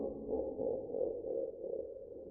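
A low, rumbling deep laugh sound effect from Minecraft, muffled and droning, played alone for a couple of seconds.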